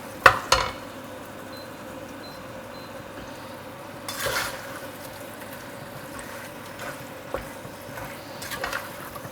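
Biryani mixture being stirred in a cooking pot, with a few sharp knocks of spoon against pot over a quiet background sizzle and soft scraping strokes.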